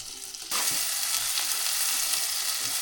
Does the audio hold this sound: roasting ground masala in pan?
yes